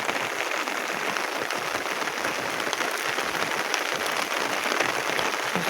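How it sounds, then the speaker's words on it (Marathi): Heavy rain pouring steadily on a village fishing spot, a dense, even hiss of downpour that holds at the same loudness throughout with no voices. "पाऊस पण जाम आहे."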